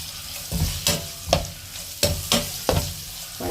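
Onions sauté in oil left over from frying chicken for a chicken kadai, sizzling close up with sharp bursts of crackle as they are stirred every half second or so.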